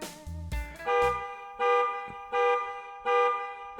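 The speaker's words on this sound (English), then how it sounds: "Loud blaring of a car alarm" A car alarm blares in a visual novel, cycling through a loud, repeating electronic tone pattern in roughly one-second bursts, preceded by a few short thumps.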